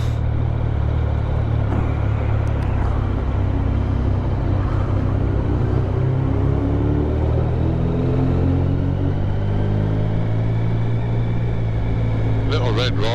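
Triumph Sprint GT1050 motorcycle ridden around Worcester, a steady loud engine drone and wind rumble throughout with shifting engine tones, and people talking over it.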